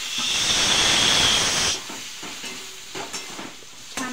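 Tomatoes hitting a hot pan with turmeric and black masala for egg fried rice, a loud hissing burst of steam and sizzle that settles into quieter frying with a few stirring knocks.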